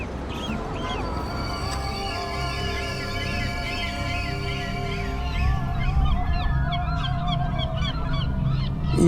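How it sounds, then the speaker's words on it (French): Gulls calling over the busy Admiralty harbour among moored trawlers, a steady rumble of boats and wind underneath and overlapping cries building louder toward the end. "Le port de l'Amirauté, les chalutiers, les mouettes, j'écoute leurs cris"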